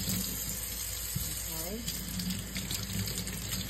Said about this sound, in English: let me just wash my pear right here